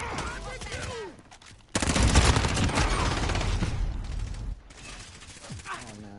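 Rapid, loud bursts of submachine gun fire from an ISO in Modern Warfare, with a dense stretch of automatic shots in the middle, game sound effects around it and speech-like sounds at the start and end.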